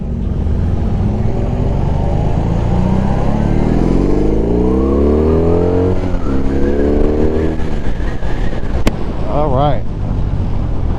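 A BMW R18 motorcycle pulls away and accelerates, its engine note rising steadily in pitch through the gears, heavy wind buffeting throughout, with a brief burst of voice near the end.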